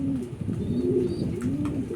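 Pet pigeons coo nearby in soft, low, rolling calls that follow one another. A few faint higher chirps sit in the background, and no voices are heard.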